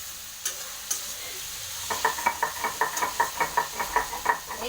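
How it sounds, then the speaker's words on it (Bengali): A spatula stirs ginger and garlic frying in a pan, its scrapes and knocks coming in a quick regular series of taps over a soft steady sizzle, near and with no talking. "এই আদা রসুন দিয়ে একটুখানি ভালো করে নাড়ানাড়ি করছি যাতে একটু করছি কাঁচা গন্ধটা চলে যায়"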